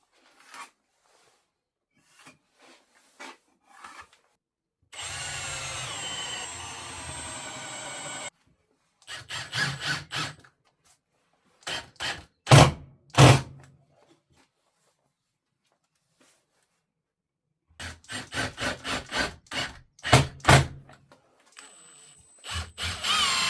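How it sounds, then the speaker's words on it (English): A power drill drives screws into scrap-wood stool legs in short bursts: one long steady whir, then a run of brief trigger pulses, and more clustered bursts near the end, separated by silence. "everything just needs lining up, screwing in. They need screwing into there, legs get screwed into them there"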